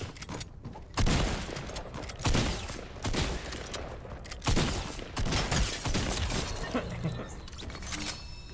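Fortnite video game gunfire: bursts of shots and sharp impacts, loud and near, in repeated volleys through the whole stretch with no talk over them.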